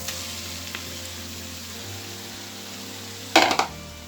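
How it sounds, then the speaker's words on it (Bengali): Dried loitta fish fry in oil in a frying pan, a steady soft sizzle close by, broken near the end by a short burst of louder crackling or stirring, with no one talking. "লটকা শুটকিটা তেলে ফ্রাই প্যানে ভাজা হচ্ছে।"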